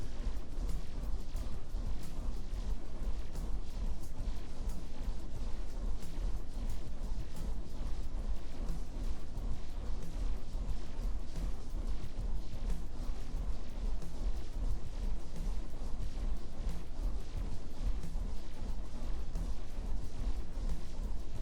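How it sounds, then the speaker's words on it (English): Cannon fire and explosive orc blasts in a war strategy video game, heard as a dense, continuous barrage of booms and crashes at steady loudness for the whole stretch. "Cannons and the explosive orcs are doing the most damage."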